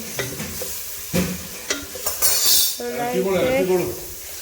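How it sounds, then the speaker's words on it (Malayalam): Masala for prawn biryani is stirred and mixed in a pot, with sharp scraping strokes and clinks over a low sizzle. A voice talks in the later part. "ഇങ്ങനെ ഇളക്കി മിക്സ് ചെയ്തെടുക്കണം"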